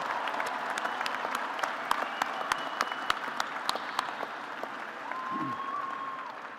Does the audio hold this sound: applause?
yes